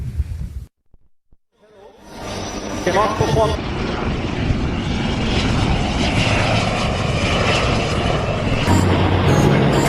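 At a rehearsal for the Aero India airshow in Bengaluru, aircraft take off after a brief quiet start, building into a loud, sustained roar of jet engines that stays strong to the end, with a voice speaking over it.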